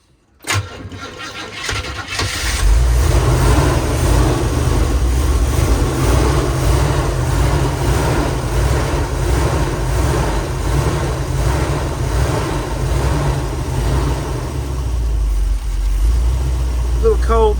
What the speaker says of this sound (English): It's crazy to think the engine's sitting there running right next to your feet.